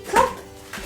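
A dog lets out a single short whiny yip close by, followed by a faint second sound.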